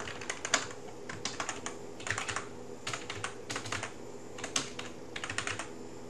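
Fingers typing manually on a computer keyboard, quick bursts of light plastic key clicks with brief pauses between words, close and steady, no talking.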